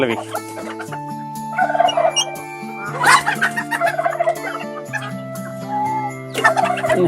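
Turkeys let out into free range on a farm gobble in loud rippling bursts, several calls over a few seconds, with hens and chickens clucking around them.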